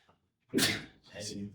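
A single sharp sneeze bursts out close by, followed by a second breathy, voiced burst.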